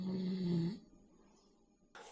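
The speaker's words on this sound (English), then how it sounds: "snoring होता है हल्का सा, but it's not very disturbing" A sleeper lying on the back snores lightly, one drawn-out rasping breath up close, then a quiet pause before the next inhale starts.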